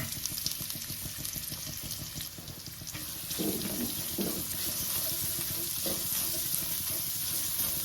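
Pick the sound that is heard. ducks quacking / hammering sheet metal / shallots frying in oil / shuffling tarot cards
shallots frying in oil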